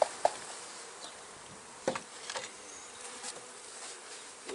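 Honeybees buzz faintly and continuously, with a few louder passes as individual bees fly close by.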